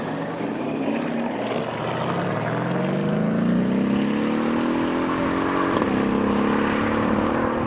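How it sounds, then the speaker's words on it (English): A BMW F80 M3 drives away from a car show, its engine holding a loud, steady drone whose pitch climbs slowly as it pulls off, with no talk over it. "I hope you're ready for some more F80 M3 noises"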